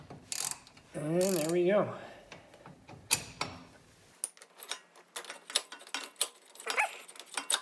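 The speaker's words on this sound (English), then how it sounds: "can use our ratchet to remove the tie rod" Ratchet clicks and mechanical rattles come from removing a steering tie rod on a 2002 Acura TL-S. The clicking bursts are close and intermittent, with a person speaking briefly at the start.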